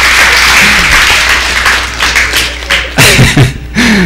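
A church congregation claps during a sermon, a loud, uneven burst of applause with thumps and scattered voices rising underneath.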